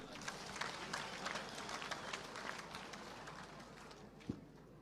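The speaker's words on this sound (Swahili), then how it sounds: "Tumpigie makofi tena." Faint, distant applause from an audience at a public memorial gathering paying last respects to a field marshal, a steady wash of clapping lasting a few seconds with one sharp knock near the end.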